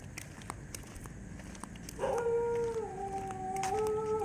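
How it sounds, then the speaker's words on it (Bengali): A dog howls loudly on a Kolkata street at night, one long wavering howl starting midway after quieter street noise and faint footsteps. "কত জোরে চিল্লাচ্ছে কুত্তা"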